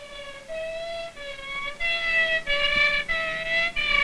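Ambulance siren at night, a wailing two-tone siren alternating roughly every half second, getting louder as it approaches, heard alone against a quiet background.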